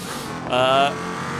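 A race car in BeamNG Drive roars through a short, loud rev that climbs over a steady engine drone, then drops back to a constant hum.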